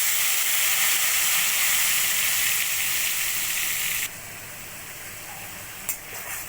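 Mustard and turmeric paste, mixed with water, hits a hot pan for hilsa fish, giving a loud steady sizzle and hiss that drops to a quieter simmer partway, with a small clatter near the end.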